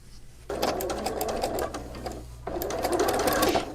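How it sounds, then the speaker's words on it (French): A domestic sewing machine stitches fleece and jersey a quarter inch from the edge in two close, steady runs of whirring, broken by a short pause, with no talk. "je viens faire une couture à 1/4 de pouce du bord."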